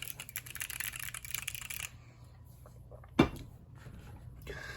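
Keyboard fitted with Zeal Clickiez switches, loud and tactile: about two seconds of rapid, dense clicking typing, then sparser, quieter keystrokes and one sharp, loud snap near the end.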